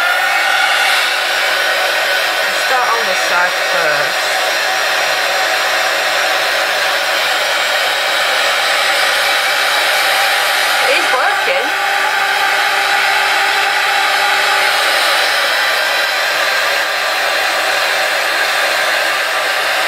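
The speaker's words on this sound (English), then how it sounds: "Get my heat gun, which is at the back" A heat gun blows hot air in a steady, loud roar that runs the whole time, with a brief spoken remark near the start.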